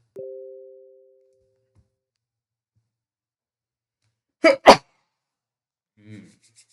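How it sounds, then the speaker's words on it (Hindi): A person sneezes sharply twice in close succession, loud and near, after a short electronic tone fades out, with a soft breath or mumble following in otherwise quiet surroundings. "2-3 बार मुझे छींक आ गई"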